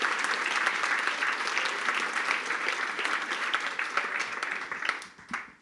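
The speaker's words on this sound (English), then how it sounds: "please give an applause again for all these speakers" Sustained audience applause at a lightning-talks session of a front-end web conference in Zurich, dense steady clapping from a crowd that tapers off near the end.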